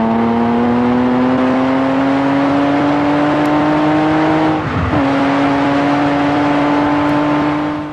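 A Lamborghini Countach's 12-cylinder engine holds a loud, steady, close-up drone with strong layered tones, dipping briefly midway before climbing back to the same sustained roar.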